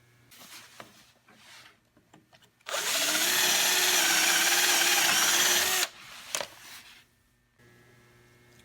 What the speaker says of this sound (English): take one of these lag bolts and drill it right through